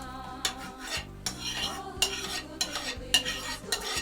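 Rhythmic scraping and tapping of a spoon beating eggs with sugar in a bowl, quick irregular strokes, close and fairly quiet.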